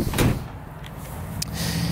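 A solid car door shuts with a single firm thump near the start, followed by a brief second knock, heard close up against steady background noise.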